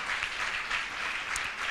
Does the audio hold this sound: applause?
yes